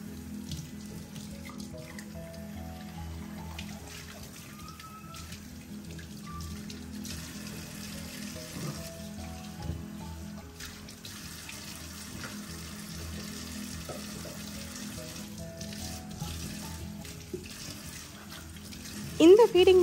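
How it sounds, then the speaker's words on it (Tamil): Running tap water splashes steadily while a mixer jar is rinsed and scrubbed by hand, with faint clinks and rustles throughout and no talking. "மிக்ஸி ஜார் வந்து நான் கையாலே எப்போதும் வாஷ் பண்ணி வச்சுருவேன்."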